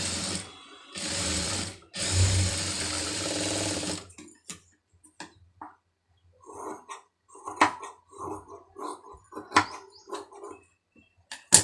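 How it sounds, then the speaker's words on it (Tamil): A sewing machine stitches a saree in two short loud whirring bursts, followed by a series of quieter intermittent clicks and knocks of handling at close range, heard without talk. "இதில் வந்து இன்னொரு தையல் போட்டுருங்க."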